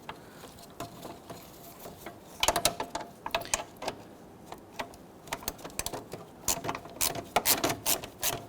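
A ratchet with a 10mm socket works a fog light bolt on a 2006-2010 Hummer H3, giving quiet irregular bursts of fast clicking, fairly close, with no talk.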